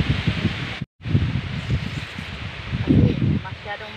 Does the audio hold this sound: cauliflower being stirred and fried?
no